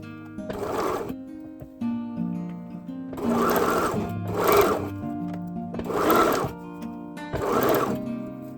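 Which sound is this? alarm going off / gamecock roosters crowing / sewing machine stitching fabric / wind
sewing machine stitching fabric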